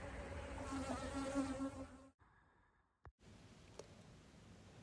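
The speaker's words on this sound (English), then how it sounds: "The bees are buzzing in and out of Pollinator Palace." Honeybees buzz around a queenless hive, a steady close drone for about two seconds, then a brief quiet gap and a fainter, more distant hum with a sharp tap.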